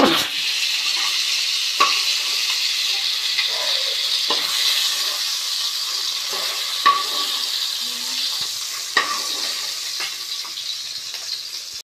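Katla fish pieces sizzle steadily in hot oil, a continuous crackling fry with occasional sharper pops and light clinks of a utensil against the pan, close and fairly loud throughout.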